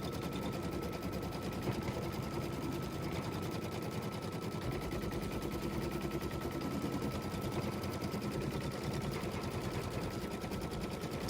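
Sewing machine stitching through quilt wadding, a fast, steady mechanical rattle running loud and continuous throughout with no pauses.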